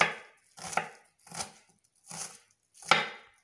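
Four or five crisp, evenly spaced knife strikes chop an onion on a board, each a short woody thud with quiet gaps between, close and fairly soft.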